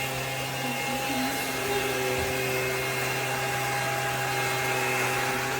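A Bissell PowerClean 200W self-standing cordless stick vacuum with a tangle-free brush runs with a constant loud motor whine and airflow hiss, with faint brief shifts in tone as it moves.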